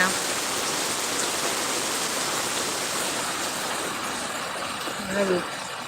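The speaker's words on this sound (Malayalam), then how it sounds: "എല്ലാ സ്ഥലത്തും മഴയാണ് ഇത് എന്താ മഴ" Steady rain pours down in a continuous, even hiss, with a brief faint voice near the end.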